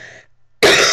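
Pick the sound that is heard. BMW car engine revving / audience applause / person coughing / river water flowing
person coughing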